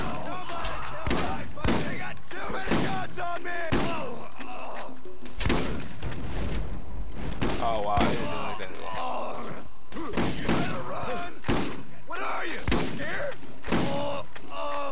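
Shotgun blasts in the Borderlands video game fire in a rapid, irregular series of loud, broad thuds across the whole stretch, with metallic reload clatter and game effects between them.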